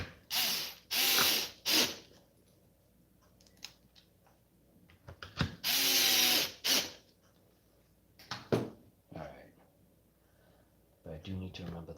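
A ratchet driver clicks in quick bursts while putting screws on during a rebuild of an XMAXX RC truck, several separate ratcheting runs with quiet gaps and brief talk between.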